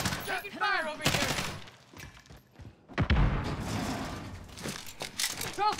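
Gunfire in the battle royale shooter Warzone, with several sharp shots and impacts scattered through the clip and players calling out tensely between them.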